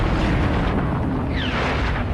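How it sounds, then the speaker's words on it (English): A volcano vent erupts in a video game, a deep, rumbling blast with a sustained broadband roar filling the whole short stretch and a brief falling whistle partway through. "A massive explosion!"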